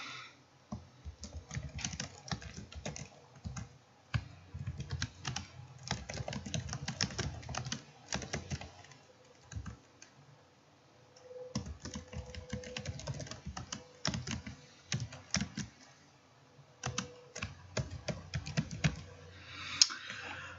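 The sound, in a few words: typing return address on computer keyboard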